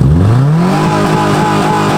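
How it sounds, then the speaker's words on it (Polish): A Subaru car engine running loud and close, revving up with a rising pitch and then settling into a steady rumbling idle. "Ale patrz, przynajmniej silnik dobrze działa."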